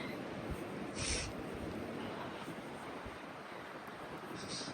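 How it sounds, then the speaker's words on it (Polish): Strong wind buffeting the microphone on the coast near Stavanger, Norway, a steady loud roar with surf-like rushing and brief gusts, no voices. "A powiem wam, że jest ostro. Tak wieje."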